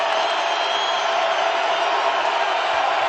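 Arena crowd at a college basketball game between UNLV and New Mexico roaring steadily, a loud, dense, unbroken wall of cheering with no clear voices standing out.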